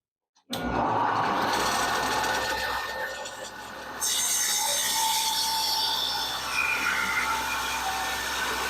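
Close, loud table saw cutting a small piece of wood, with a sudden onset followed by a steady whining, rasping drone that dips briefly midway and then resumes at full strength.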